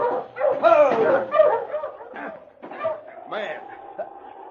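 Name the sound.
dog barking in a radio drama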